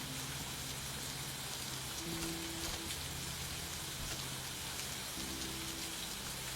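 Steady rain falls throughout, a dense hiss of drops on a surface with a low hum underneath, no voices.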